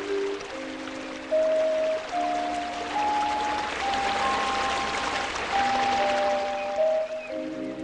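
Water of the River Esk flowing and bubbling below a steep hillside village, a steady broadband rush heard alone under tonal music notes.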